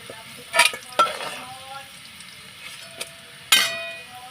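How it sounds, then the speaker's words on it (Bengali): Oil sizzles steadily in a pan, with a few sharp scrapes and clinks of a spatula stirring frying bitter gourd pieces. "উচ্ছেগুলো লাল লাল করে ভেজে নেবো"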